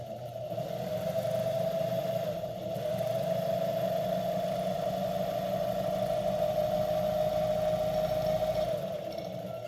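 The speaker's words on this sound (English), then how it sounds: "you just give a little bit of gas, and you're winding a bobbin" A Pfaff 130 sewing machine winds a bobbin with a steady, even motor whir and hum that holds for several seconds, close and alone.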